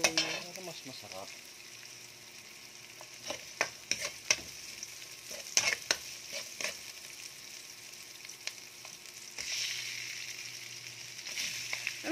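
Ginger and other ingredients for pork batchoy sauté in hot oil, a soft steady sizzle broken by scattered clinks and scrapes of a utensil stirring the pan, close and fairly quiet.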